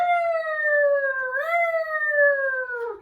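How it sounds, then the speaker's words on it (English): A wailing siren rises and falls in long smooth sweeps, loud and clear with nothing else around it. "and the siren went"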